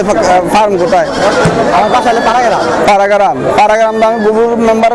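Several goats bleat in wavering cries, loud and close, overlapping with a busy background of voices and crowd chatter at a livestock market in Bangladesh.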